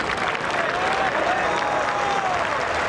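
Crowd applause from golf spectators greeting a short-game shot at Royal Troon during the final round of the Open Championship, a steady dense clapping wash filling the whole stretch at moderate distance.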